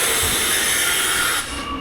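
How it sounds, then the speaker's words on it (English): An Opal V-set electric train arrives at a Blue Mountains station with a loud, hissing rumble that holds steady, then drops away abruptly near the end, leaving quieter platform ambience. "here comes the train now"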